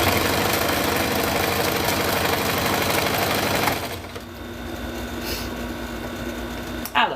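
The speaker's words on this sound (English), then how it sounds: "listen to the gentle and soothing sounds of a sewing machine" A sewing machine runs steadily with a rapid mechanical whir, then slows to a quieter, lighter hum before a brief final clatter.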